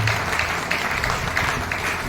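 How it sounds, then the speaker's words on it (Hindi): A church congregation claps loudly in praise during a worship service. The applause is brief and steady, a dense wash of hands with slight pulsing swells. "आइए जोरदार ताली पवित्र आत्मा की तरफ"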